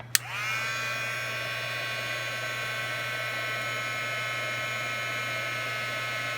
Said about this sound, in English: turn your heat gun on. I'm sorry, I don't know how to take the noise out